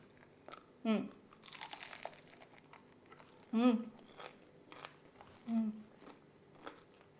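Crunchy gluten-free vegan food is bitten and chewed close up, with a few loud crisp crunches spaced out among quieter crackling, and a voice speaks faintly between them.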